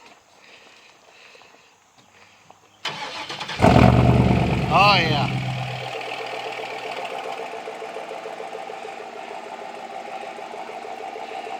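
A 2007 Chevy pickup fitted with a new exhaust cranks over and fires with a loud roar, then settles into a steady, rumbling idle. A brief voice is heard near the start.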